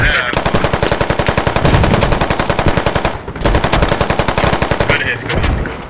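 Machine gun fire in the video game Squad: two long, rapid, very loud bursts close by, split by a brief pause, then a short tail of echo.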